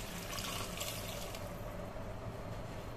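Water is poured into a cooking pot for Schezwan rice, giving a steady rushing splash that softens into a quieter trickle partway through.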